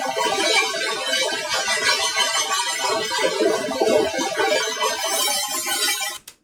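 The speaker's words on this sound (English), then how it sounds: "The next spectral resonator along from this sounds like this." Ableton stock Spectral Resonator effect with harmonics stretched upward, producing a dense, bright, metallic shimmer of clustered ringing tones that flutters rapidly throughout, steady and fairly loud before cutting off abruptly near the end, no voices.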